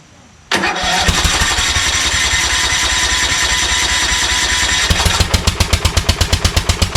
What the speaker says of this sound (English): it starts on choke, but then when I take it off choke onto a full run, it won't start